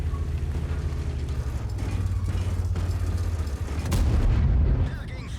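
Tiger II tank cannon firing in a video game, heard as a deep heavy boom over a continuous low engine rumble, with a second louder blast near the end, close and loud.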